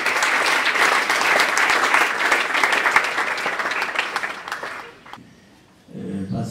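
A seated audience at a national education day conference greets a speaker with a sustained wave of clapping that gradually thins and nearly stops near the end, before a brief low rumble returns.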